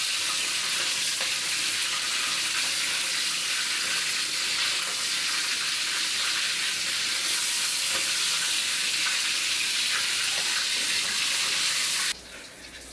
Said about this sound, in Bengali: এটাকে একটু সুন্দর করে মুরগিগুলো ভাজা হচ্ছে।